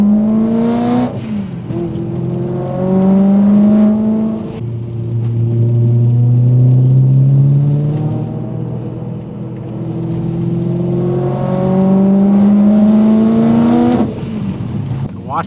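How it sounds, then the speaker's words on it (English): A van pulls away and accelerates hard. Its engine, suffering blown head gaskets, drones and rises through rough, climbing revs with gear changes. The sound is loud and close, with talking over it. "Watch this van as it takes off."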